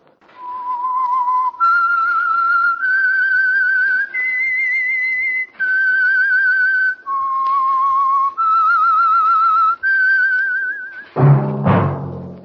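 A clear, loud whistled melody of sustained notes stepping up and down, the theme of the radio drama The Whistler, followed by a brief burst of orchestral music at the end.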